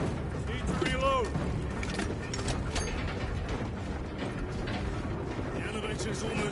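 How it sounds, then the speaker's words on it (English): Heavy elevator machinery grinds and ratchets in Warhammer 40,000: Space Marine 2, a steady mechanical clatter with creaks and gear clanks running throughout amid dense game noise and occasional voices. "The elevator's almost here"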